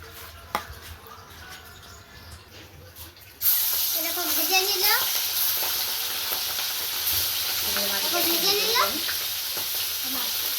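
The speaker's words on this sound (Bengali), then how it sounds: "এবার আমি এটা একটু হালকা করে ভেজে নেবো" Salted, turmeric-coated prawns start lightly frying in a pan after a quiet few seconds. A sudden, steady sizzle then carries on to the end, with a voice talking over it.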